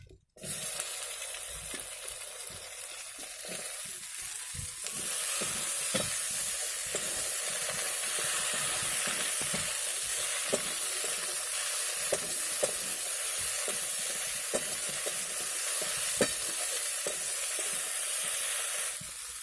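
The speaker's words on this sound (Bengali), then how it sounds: "এবার এই একই তেলের মধ্যে আমি ঢ্যাঁড়স আর আলুটা ভালো করে ভেজে নেব।" Okra and potato frying in oil give a steady, close sizzle that runs the whole time, with frequent short clicks and scrapes of a stirring utensil in the pan.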